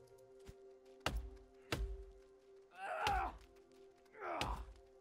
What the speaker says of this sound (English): So we're just going to get rid of this tree stump.